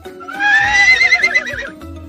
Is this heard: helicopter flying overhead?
no